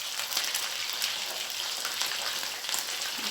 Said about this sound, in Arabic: هقليه في الزيت عشان يبقى قدام حبايبي